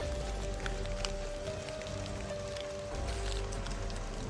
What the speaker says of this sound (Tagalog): Mamaya na tayo alis kapag tigil na talaga itong ulan